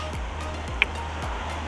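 Waves wash onto the beach at Balancing Rock along the Great Barrier Reef drive near Port Douglas, a steady low surf roar with gentle rolling swells and no talking.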